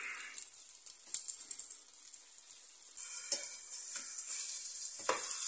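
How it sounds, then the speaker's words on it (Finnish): Piri-piri night sandwiches frying in a pan, a steady bright sizzle throughout with occasional crackles and a few spatula clicks, close and fairly loud, no talking. "sen verran paistetaan, että tulee ruskea hyvä väri"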